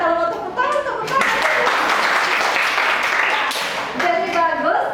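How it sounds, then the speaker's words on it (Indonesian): Children in a classroom clap their hands together in a brief burst of dense clapping lasting a few seconds, with kids' voices talking and laughing before and after. "silakan kalau mau tepuk tangan"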